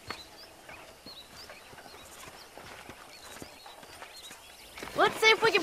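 Horse hooves clip-clop at a walking pace in the Red Dead Redemption video game, a steady rhythm of soft hoofbeats beneath voiced dialogue, ending with louder game speech and sounds.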